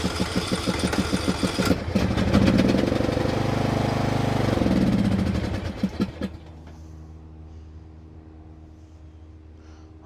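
A lawn mower engine turns over and catches after starting fluid, running loud and rough with popping irregular firing, then drops to a quieter steady idle after a small backfire.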